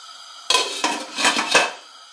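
A metal lid is set onto a cooking pot on a gas stove, a bright clattering clank followed by several quick rattling knocks as it settles, close and alone.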